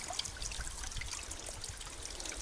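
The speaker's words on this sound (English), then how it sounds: "it's a waterfall, or water source rather" Water from a mountain waterfall source trickles and splashes steadily beside the Appalachian Trail, a continuous close, hissing flow with no pauses.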